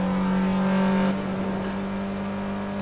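An engine revs in a driving video game, a steady droning hum that drops off abruptly partway through and is followed by a brief hiss, with no talk over it.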